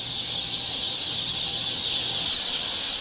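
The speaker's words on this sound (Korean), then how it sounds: "병아리들은 여기서 한 달 동안 각각 키워질 예정이다." Chicks peeping en masse inside a large poultry house holding thousands of birds, a dense, steady high-pitched chorus of chirps at moderate volume, with no talk.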